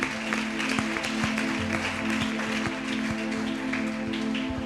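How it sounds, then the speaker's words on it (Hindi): A congregation at a Friday youth church meeting claps to glorify the Lord, a continuous crowd patter over sustained keyboard-like tones and a low hum. "आइए ताली बजाएं, प्रभु को महिमा दें।"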